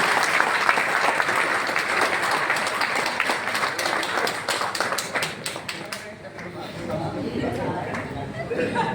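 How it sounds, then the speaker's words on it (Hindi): Loud, dense applause welcoming Anurag sir at a gathering, with rapid distinct claps that stop abruptly near the end, followed by room murmur and voices. "अनुराग सर के लिए एक जोरदार तालियों से स्वागत किया जाए"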